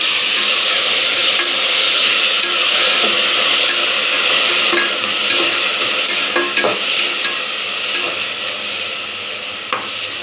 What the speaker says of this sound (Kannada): ನೋಡಿ, ಈ ಥರ ಚೆನ್ನಾಗಿ ಎಣ್ಣೆಯಲ್ಲಿ ಚೆನ್ನಾಗಿ ಅದು ಫ್ರೈ ಆಗಬೇಕು.